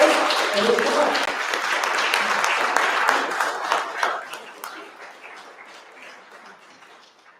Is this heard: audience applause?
yes